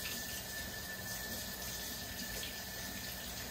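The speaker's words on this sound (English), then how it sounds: "Now let me wash my hands." Water running steadily from a tap into a sink during handwashing, a continuous close hissing splash with no talking.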